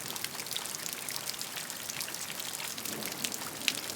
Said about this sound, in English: allow the sound of the rain to wash over you